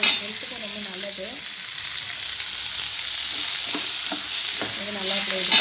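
Chopped ridge gourd sautés in a pan for chutney, giving a steady close hiss of frying with occasional soft stirring knocks; a faint voice-like tone drifts in briefly at the start and end.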